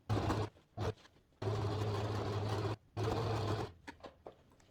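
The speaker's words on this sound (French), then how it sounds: "Là, on redescend le pied presseur et on continue la couture." A domestic sewing machine stitches fabric for a wall organizer in several close, steady runs with a humming motor, stopping briefly between bursts while the fabric is turned.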